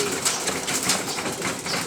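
Pigeons landing on a rooftop, with several bursts of flapping wings and soft cooing up close, loud and continuous for a couple of seconds.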